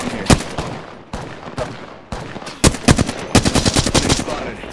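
Repeated gunfire from Apex Legends, with bursts of close, sharp shots at irregular intervals, building into a rapid volley near the end.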